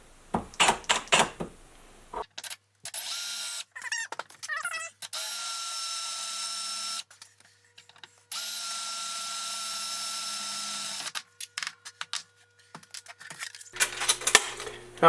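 A power drill bores a pilot hole in metal during a Ford 9-inch axle build, several whining bursts of drilling broken by pauses, with clinks and handling noises between runs.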